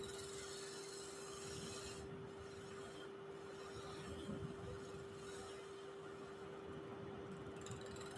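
Shear scraping a gnarly live edge wood piece turning on a lathe, heard as a continuous, fairly quiet rasping rub over a steady motor hum, with no talking.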